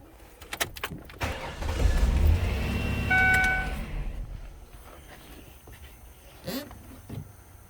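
A Ford engine cranks and catches for about two seconds with a loud low rumble, then shuts off during power steering air purging, with clicks and shop noises before and after.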